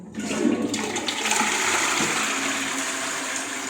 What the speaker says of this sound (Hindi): इसके बाद कमोड भी जो है फ्लश करने लगे हैं।